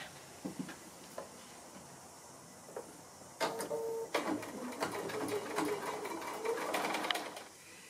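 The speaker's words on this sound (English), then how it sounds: "So I'll go ahead and do my diagonal stitching" Sewing machine stitching diagonal seams across the corners of a house sampler quilt block; after some faint taps, a steady mechanical whirring starts midway and runs continuously to the end.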